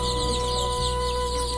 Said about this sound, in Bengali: এগুলো যেগুলো দেখতে পাচ্ছেন এখানে 55 পিস আছে দেশি মুরগির বাচ্চা